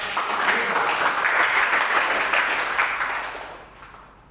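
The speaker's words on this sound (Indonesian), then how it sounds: "Tepuk tangan dulu dong" A church congregation claps together in a dense wash of applause that holds steady for about three seconds, then tapers off and fades out.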